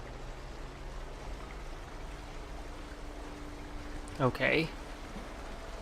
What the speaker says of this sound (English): This is the bloody river.